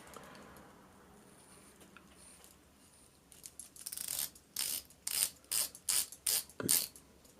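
A watch bezel on an automatic watch with a yellow dial clicks as it is turned, a quiet start followed by a run of about eight loud, close, evenly spaced ratcheting bursts.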